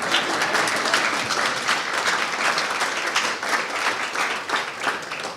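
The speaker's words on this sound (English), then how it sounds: "Can you please applaud?" Sustained applause from a crowd at an anniversary celebration, dense and steady, close and fairly loud for the whole stretch with no speech over it.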